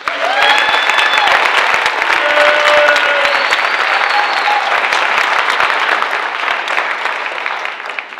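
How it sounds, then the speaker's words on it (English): A large crowd gives a loud, sustained round of applause for high school seniors at a recognition night, dense clapping with a few cheers and whistles mixed in, slowly easing toward the end. "Can we give them one round of applause?"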